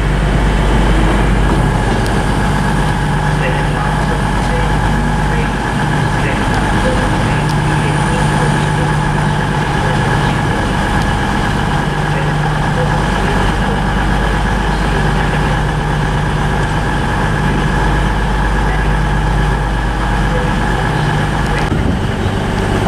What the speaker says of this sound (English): departing now is going to be the 1541 cross-country service to Bournemouth from Manchester Piccadilly